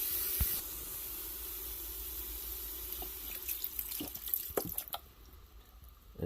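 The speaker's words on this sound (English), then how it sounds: "I'm gonna add some of this broth." Broth poured into an Instant Pot over vegetables for a pot roast, a steady liquid splash and trickle that stays close and moderately loud, then breaks into a few sharper drips and clatters toward the end, with no talking.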